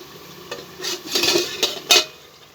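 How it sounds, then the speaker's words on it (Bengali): A lid lifted off a pan where an egg and potato dish is cooking: a few close metallic scrapes and clatters with a brief hiss under them, loud and short, with no voices. "এবার আমি ঢাকনাটা খুলে নেব।"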